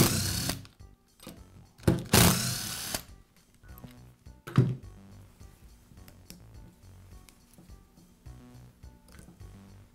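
Screws being removed from the cord clamp of a Porter Cable router during repair, with short bursts of a small driver whirring followed by quieter clicks and handling noises at close range.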